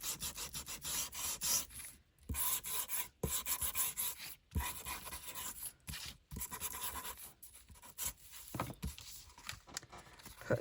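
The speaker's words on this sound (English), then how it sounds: "we're just going to sand the edge of the bookcase" The edge of a wooden bookcase is sanded with rough, rasping strokes that come in bursts with short pauses between them, close and fairly quiet.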